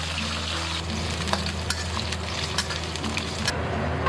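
Garlic and ginger fry in cooking oil in a smoking-hot iron wok over low flame, a loud steady close sizzle with occasional light stirring taps, no talking.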